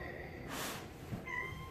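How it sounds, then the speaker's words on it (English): A stray cat meows indoors, a short, fairly faint cry rising over a quiet room near the end of the moment. "I have a cat meowing."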